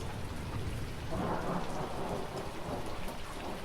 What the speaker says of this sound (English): It's pissing with rain